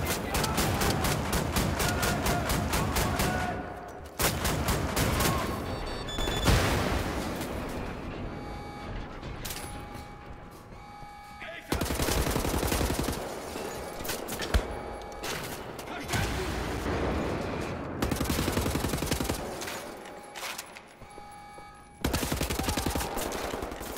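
Heavy automatic gunfire from a high-recoil weapon in Wolfenstein: The New Order on Xbox One, long loud bursts of rapid shots broken by brief pauses, with game music and effects underneath.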